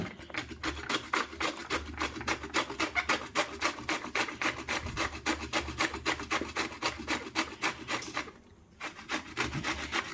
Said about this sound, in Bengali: আমটা গ্রেট করে নিচ্ছি